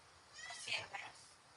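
A cat gives a short rising meow, close but faint, over quiet room tone, with a person's voice nearby.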